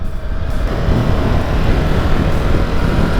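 A Ducati Multistrada Enduro 1260 motorcycle accelerates on a road with a continuous, loud, low engine roar and heavy wind rush, with no talk over it.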